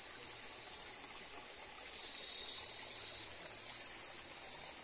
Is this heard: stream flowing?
yes